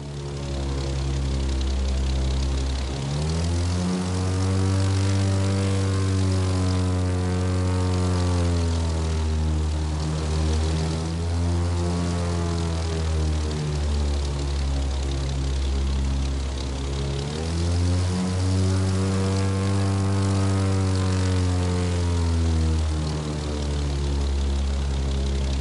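A propeller aircraft in The Crew flies a full loop, its engine droning loud and continuous while the pitch sweeps down and back up as it climbs and turns.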